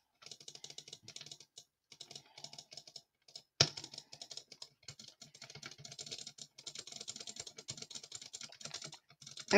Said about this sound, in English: I'm just clicking with two fingers.